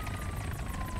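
Brief, steady police helicopter drone in the video game Arma 3 Altis Life, with rhythmic rotor chop and a thin engine whine, moderately quiet.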